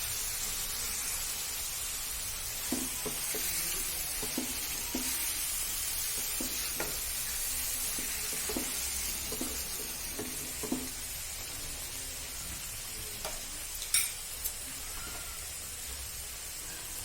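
Meat frying with powdered spices and salt makes a soft, continuous sizzle, with scattered light scrapes and taps as it is stirred through the pan.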